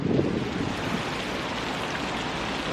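Heavy rain shower falling during an outdoor fishing outing, heard as a dense, loud and continuous wash of broadband hiss that stays steady throughout.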